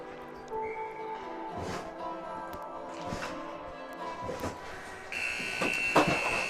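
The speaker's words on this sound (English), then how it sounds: "there is the buzzer" End-of-game buzzer at an under-18 ice hockey game in an arena, a sustained electronic tone sounding over crowd and rink ambience, with a louder tonal blare rising near the end.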